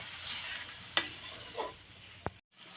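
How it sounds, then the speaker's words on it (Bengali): Spice masala being stirred in a pan just after water is added, giving a soft steady sizzle broken by a few sharp scrapes and clinks of the spoon against the pan, close and alone without talk. "জলটা দেওয়ার পরে একটু নাড়াই চাড়াই নিই, মশলাটা পেকে যাক।"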